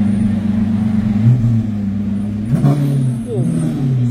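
A Lamborghini Revuelto supercar revs on a street in Cannes, its deep engine roar loud and close, rising and falling through a couple of throttle blips.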